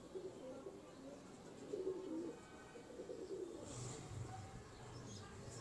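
A plain domestic pigeon gives soft, low cooing calls, faint and somewhat distant, with a few brief chirps and light background noise in a bird-keeping setting.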